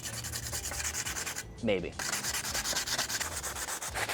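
Rhythmic back-and-forth scraping of sandpaper roughing up the fiberglass coating of a carbon paddle before varnishing, close and steady, briefly interrupted by a short spoken word.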